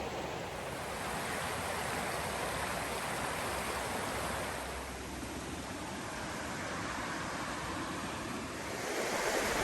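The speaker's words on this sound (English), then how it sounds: "attempt this water crossing now" Steady rushing water fills the whole stretch, a broad loud churn of wading knee-deep across a stream on the Ozark Highlands Trail, with no voices.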